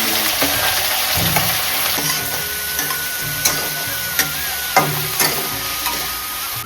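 Cumin seeds and whole spices crackle and sizzle steadily in a hot pan, close and fairly loud, with a few sharp pops and clinks of stirring scattered through and no talking.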